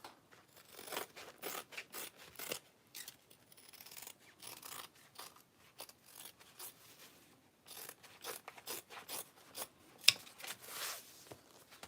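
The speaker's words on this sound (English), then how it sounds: "gonna trim down any excess bits around these pockets" Repeated snipping of scissors trimming excess material around the pockets of a handmade Erica Bowler bag, a close series of crisp cuts in irregular bursts separated by short pauses.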